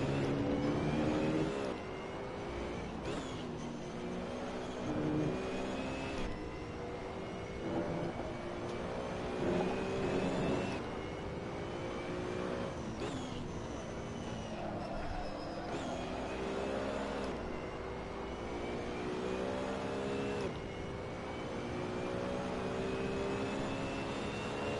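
A BMW Z4 GT3 race car engine in Assetto Corsa on PS4, revving up and down through repeated gear changes with a whining, rising drone that dips at each shift, steady and close throughout.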